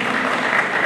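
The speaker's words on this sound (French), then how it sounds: "Il faut applaudir." Audience applause at a general assembly, a dense, steady burst of many hands clapping together at close range, filling the whole brief moment without any voices over it.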